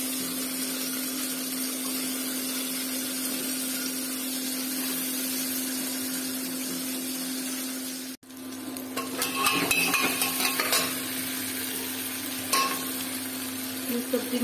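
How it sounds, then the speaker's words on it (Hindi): Onions frying in a pan as garlic paste and tomatoes go in for a bathua dal: a steady sizzle, then a brief drop and a burst of stirring and sputtering with scraping of the pan, close and without talk. "अब मैं इसमें तुरंत ही लहसुन की पुड़िया ऐड करेंगे, तुरंत ही मैं टमाटर ऐड कर दूंगी।"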